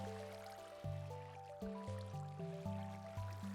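Falling water in Minecraft, with the game lagging, comes through as a faint, stuttering liquid sound that repeats in short looping bursts with stepped tonal shifts.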